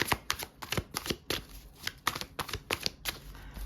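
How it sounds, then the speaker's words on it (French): Tarot cards being shuffled and drawn, quick crisp flicks and snaps of card stock in an irregular rapid patter, close and clear with no talking. "On va prendre 4 cartes du tarot."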